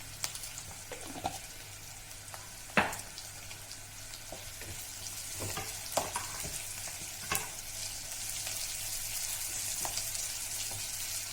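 Chopped onions with salt frying in a pan of oil, a steady sizzle broken by intermittent spatula scrapes and clinks as they are stirred, growing fuller toward the end.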